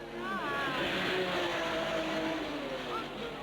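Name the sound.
Renault and Porsche race cars at Le Mans 1978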